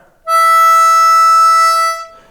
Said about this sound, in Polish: Piąty kanał na wydechu, dźwięk E.